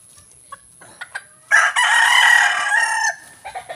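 Chickens on a small provincial farm in Sibonga, Cebu: scattered clucks, then a loud, close rooster crow holding for over a second before more soft clucking.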